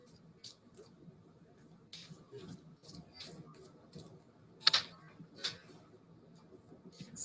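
Archangel power oracle cards shuffled by hand in a quiet room, soft intermittent riffling and flicking with a few sharper snaps, faint and close with pauses between bursts.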